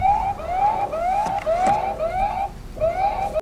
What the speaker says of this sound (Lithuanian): Apie pakeltą robotą perspėja garsus signalas.